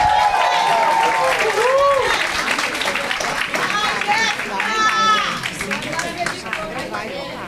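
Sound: audience applause

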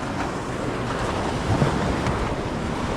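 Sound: sea waves

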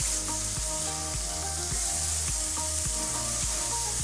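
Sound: onions roasting and sizzling on a hot grill

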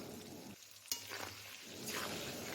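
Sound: potatoes frying in oil with salt and turmeric

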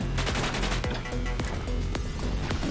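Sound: gunfire from enemies in the video game Orbital Bullet

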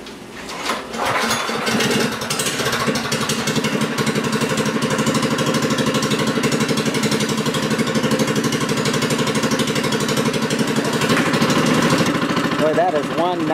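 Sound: Monocar motor engine running

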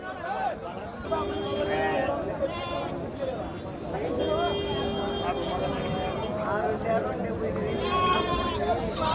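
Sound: sheep bleating at livestock market

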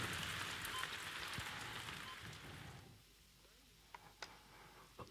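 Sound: rain falling

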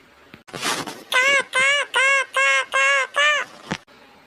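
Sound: person imitating crow cawing

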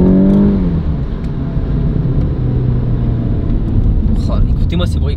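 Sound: Golf 7 GTI TCR engine driving

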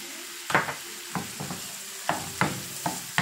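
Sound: garlic shrimp sizzling in a pan after adding lemon juice

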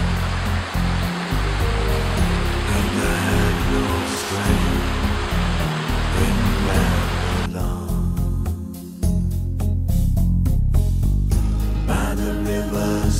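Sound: small waterfalls in a river

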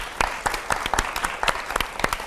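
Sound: studio audience applause

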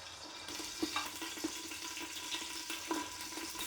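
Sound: onions lightly frying in coconut oil for pulav

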